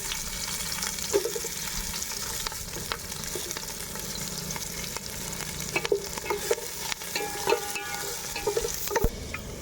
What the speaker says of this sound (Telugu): ఇందులో ఇప్పుడు ఆనియన్స్ అండ్ పచ్చిమిర్చి వేసుకుందాము.